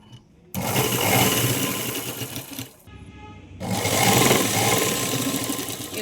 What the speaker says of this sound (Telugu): ఇప్పుడైతే ఇలా లోపలికి ఫోల్డింగ్ చేసి ఇప్పుడు స్టిచ్చింగ్ వేయాలి పైన.